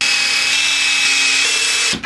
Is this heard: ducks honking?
no